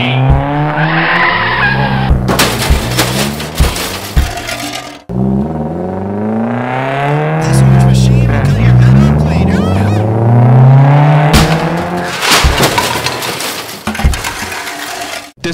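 Black Nissan GT-R chase in a stop-motion action film, with loud, drawn-out tire squeals and skids sweeping up and down, broken by sharp impacts and bursts of engine noise, with voices partly over them.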